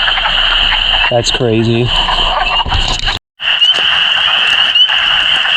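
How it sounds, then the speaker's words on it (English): Spring peeper frogs call from a wetland vernal pool at night as a dense, steady chorus of high, piping peeps, loud and continuous throughout, while a person speaks briefly partway through. "there's a spring peeper that is sitting on this branch, and like his other brethren, he is out calling."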